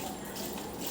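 Water runs steadily over a mop stick being rinsed, a continuous close gushing splash with no break and no voices over it.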